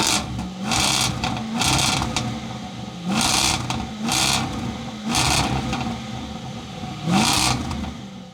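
A 575 hp 2025 Jaguar F-Pace SVR sits nearby with its engine running, its low rumble punctuated by five or six sharp revs in an uneven rhythm, each rising then falling back to idle.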